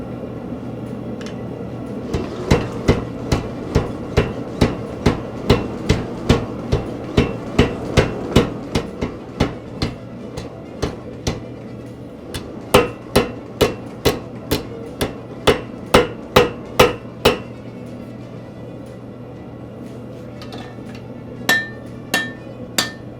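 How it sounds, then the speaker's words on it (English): A tire hammer pounds a hot steel knife blank at forging temperature, drawing out the tail. Loud, close, rapid, evenly spaced blows come in long runs with brief pauses between bursts. "you've got that steel up to forging temperature, and you're going to pull that and bring it over to the tire hammer?"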